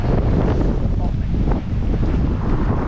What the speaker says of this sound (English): Bloody hell, it's windy.